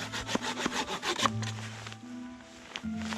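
Hand saw cutting wood in an outdoor setting while building a shelter, with steady back-and-forth rasping strokes at a near, even rhythm, followed by a quieter stretch of low background sound.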